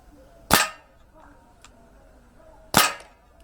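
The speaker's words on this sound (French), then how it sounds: "les 3 boîtes en ferraille du bas, on va tirer celle du milieu pour voir" An Umarex Beretta 92 Elite 2 air pistol fires BBs at tin boxes: two sharp, close cracks about two seconds apart, each with a short ringing tail from the struck metal, in an otherwise quiet space.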